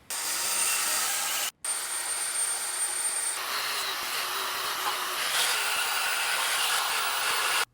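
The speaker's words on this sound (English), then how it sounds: "I'm gonna go around and remove all of the seam sealer where we need to" A power tool strips seam sealer from the body joints of a 2013 BMW 335i with frame damage, a loud, steady, close-up whirring grind that runs almost continuously, broken by one brief pause.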